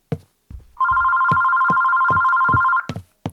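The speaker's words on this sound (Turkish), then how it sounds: "Telefon çalıyor." A telephone rings in a horror video game, a long steady electronic ring that follows and is then cut off by sharp knocking thuds, all close and loud.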